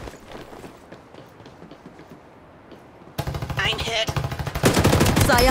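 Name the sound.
gunfire from psionic guns in the video game Farlight 84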